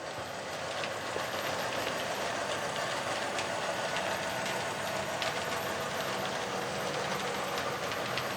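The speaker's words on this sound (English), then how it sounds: "to kind of be able to have a train running in a loop like we have right here" A model train rolls steadily around a looping layout with a continuous rumbling hum and faint rhythmic clicking of wheels on track, close by and unbroken throughout.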